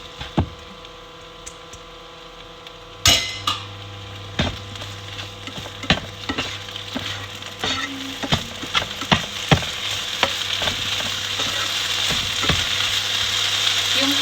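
Mixed vegetables sizzling in a hot pan for fried rice, a steady frying hiss that builds after a sharp start, broken by frequent clicks and scrapes of a utensil stirring, close and fairly loud.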